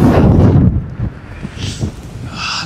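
Strong wind buffets the microphone in a loud rumbling gust, then eases to a softer, fluttering whoosh.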